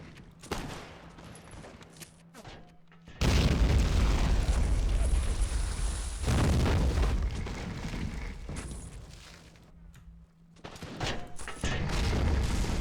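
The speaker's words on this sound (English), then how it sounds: "We're just right now really just focusing on using artillery here." Heavy artillery explosions in the Born in the Fire: America mod, a long roaring blast with a rumbling tail following scattered distant shots, then more booming bursts toward the end.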